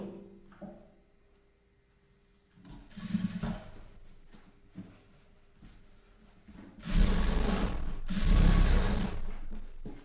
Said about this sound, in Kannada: ಎಲ್ಲಿ ಹೊಲಿಗೆ ಹಾಕ್ತಾ ಇದ್ದೀನಿ ಅನ್ನೋದು ಸ್ವಲ್ಪ ಗಮನ ಇಟ್ಟು ನೋಡಿ